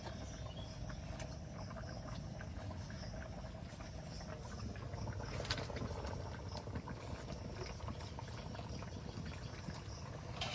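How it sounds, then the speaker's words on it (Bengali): A thin fish curry with taro and potato simmers in a pot, giving a steady low bubbling and sputtering throughout, fairly quiet and close, as fried bata fish is added. "এবার ভেজে রাখা মাছগুলো দিয়ে দেবো।"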